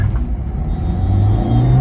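A Maruti Swift hatchback accelerates hard during a 0-100 km/h run, its engine a steady loud low rumble that grows denser and rises in pitch as it pulls, heard up close and continuous without talk.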